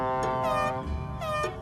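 Cartoon tugboats in a busy harbour sound two long, bright horn blasts, one after another, loud and close with nothing else over them.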